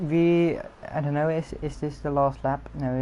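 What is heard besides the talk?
None of the usual background noises is heard.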